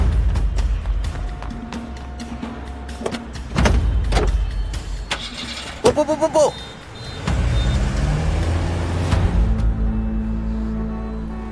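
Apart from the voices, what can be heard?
car starting and driving off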